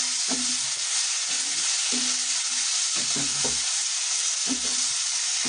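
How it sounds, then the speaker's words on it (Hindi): Garlic and red chili chutney fries in oil in a pan, giving a steady soft sizzle throughout, with occasional low scraping taps from a spoon stirring it. No one talks. "ये हमारी चटनी ने ऑयल छोड़ना शुरू कर दिया है"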